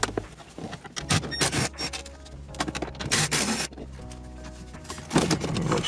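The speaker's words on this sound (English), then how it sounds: "these are the bolts down here we'll need to get out, just the ones on the left and on the right" Bolts come out of a Lexus IS dashboard radio mount, with close ratcheting, scraping and metallic clicks in irregular bursts, plus a few short whirring stretches and no talking.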